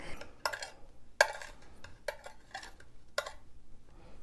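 A spoon stirs in a pot, knocking and scraping against the metal in about six short, sharp clanks spaced unevenly over a few seconds, close and clear with no talk.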